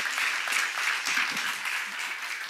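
A church congregation claps together at a seminar, giving a dense, continuous burst of applause that stays fairly loud and even for a couple of seconds with no voices over it.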